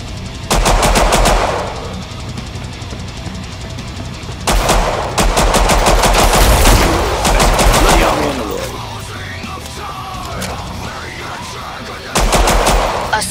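Loud machine-gun fire rattles in Killing Floor 2, coming in several long rapid bursts separated by short pauses filled with game creature noises and effects.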